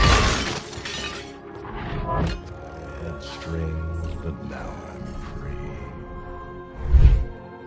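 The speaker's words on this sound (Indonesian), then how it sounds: "palu Thor berhasil menghancurkan tubuh Ultron dan kemudian pecah berkeping-keping" Ultron's robot body shatters under Thor's hammer in an Avengers: Age of Ultron film scene, loud breaking and crashing bursts with a heavy impact near the end, over a rumbling cinematic sound bed.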